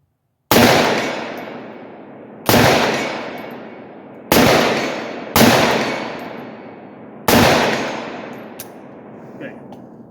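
Five loud, sharp gunshots from a 7.5 inch AR rifle ring out alone at uneven intervals, each a hard crack with a ringing decay that fades before the next shot.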